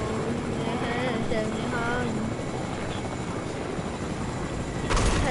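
Steady rotor and engine drone of a helicopter in Fortnite runs throughout, loud and close, with a brief louder swell near the end, while players talk over it.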